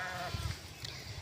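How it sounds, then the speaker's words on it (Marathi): A flock of sheep on the move gives a few short, low bleats close by over outdoor background noise, in a brief burst. "बघू शकता मागून खूपच मेंढ्या येत आहेत."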